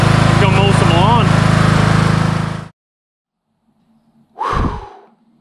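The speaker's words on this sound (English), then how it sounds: "we got the old girl running. She's gonna mow some lawn" An old, slightly smoking lawn mower engine, fitted with new blades, runs loud and close with a steady droning roar, then cuts out abruptly; a breathy sigh-like vocal sound follows after a pause.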